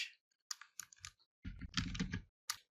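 Short clusters of key presses on a computer keyboard in a basic computer class, a few quick clicks followed by a denser run of typing, close and crisp in a quiet room.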